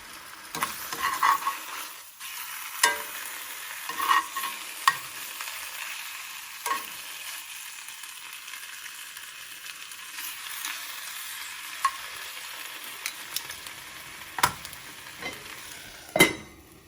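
Ham chars dry, with no fat or butter, in a small cast iron skillet, giving a soft steady sizzle broken by occasional clinks and scrapes of stirring, close and fairly quiet.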